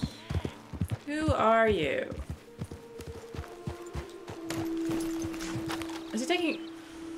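Horse hooves clip-clop in Red Dead Redemption 2, a rhythmic series of hoof strikes close by under a man's speech and game dialogue.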